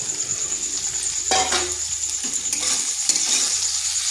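Okra is tipped into a frying pan with spices and stirred, giving a close sizzle with scraping and clinking of a utensil against the pan.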